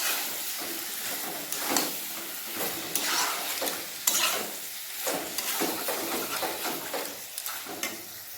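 Chicken gizzard and liver stir-fry over a high flame, the sizzle broken by repeated scrapes and clatters of a spatula stirring in a pan, close and busy throughout.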